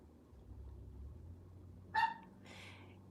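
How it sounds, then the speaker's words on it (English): A single short bark rings out, followed by a softer yelp, over a low background hum. "My dog done started barking."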